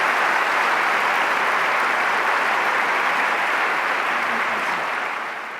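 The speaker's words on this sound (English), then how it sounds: "he deserves a round of applause as well" A large audience at a 2014 Aga Khan and Prime Minister Harper human development event gives a steady roar of applause that holds evenly, then begins to fade near the end.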